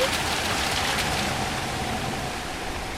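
Water in the Platform 8 video game makes a constant rushing, rain-like hiss that stays steady and fairly loud throughout, with no talking.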